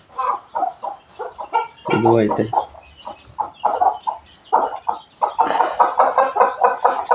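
Chickens cluck in short repeated bursts close by while a person talks over and between them.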